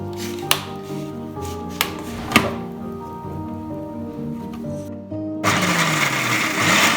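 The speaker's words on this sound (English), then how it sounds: "Onion in the grinder." An electric grinder blending onion, starting with a few sharp knocks and a low motor whine that winds down, then a loud, rough whirring grind kicking in near the end.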